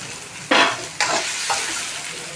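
Bottle gourd and onion stalks being stirred in a hot pan: three scraping strokes about half a second apart, each followed by a hiss, fading under a soft, steady sizzle.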